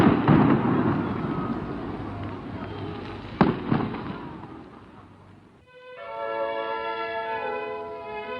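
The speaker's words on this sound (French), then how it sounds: "Mon Dieu, une grenade." A grenade blast in a French wartime radio drama: a loud, broad burst with a sharp crack near the middle, fading into rumble before music takes over.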